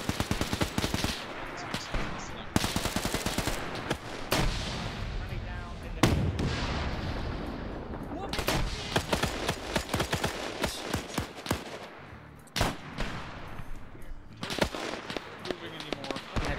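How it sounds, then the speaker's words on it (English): Gunfire in a Korean War combat game, with heavy single shots from a PTRD anti-tank rifle mixed into a dense, continuous stream of rifle and machine-gun fire, loud and close, with voices talking over it. "They shot it with the PTRD as well."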